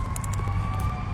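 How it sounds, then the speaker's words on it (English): An ambulance siren sounds outdoors as steady sustained wailing tones, heard faintly at a distance over low background rumble, with no talking. "Ambulance is out here."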